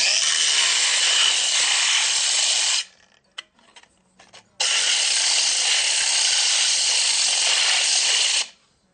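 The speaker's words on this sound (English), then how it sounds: "I just want to place it on the wheel as it's spinning, and what this will do is this will kind of polish or clean up those rough spots" A spinning grinder wheel smoothing the rough cut edges of an aluminum beer bottle, a loud steady hissing grind in two long passes separated by a short pause with faint clicks.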